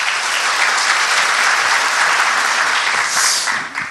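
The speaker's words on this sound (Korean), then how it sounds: "박수 부탁드립니다" An audience at a constitutional debate forum in Korea applauds, a dense, loud, continuous wash of clapping that holds steady for several seconds before starting to thin out at the end.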